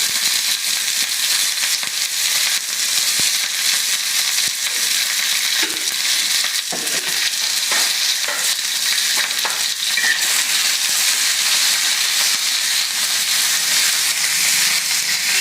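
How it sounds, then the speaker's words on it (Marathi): Green chillies roasting in hot oil in a pan, a loud continuous close-up sizzle and crackle with some stirring, no talking. "आता त्याच्यात तेल टाकते. तेल टाकल्यावर झटपट मिरच्या भाजून होतात."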